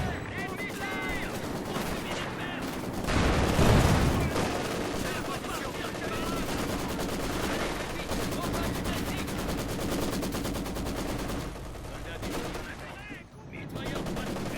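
Enemy gunfire in the World War II strategy game Company of Heroes 2, with dense overlapping rifle and machine-gun bursts rattling continuously across the whole stretch, a heavier burst around the fourth second, and faint voices mixed in.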